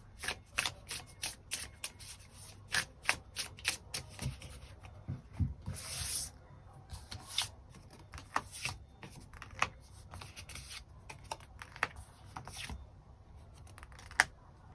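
Tarot cards shuffled and drawn on a table, a long run of crisp riffling slaps and papery flicks in irregular bursts, close and moderately quiet with no talking.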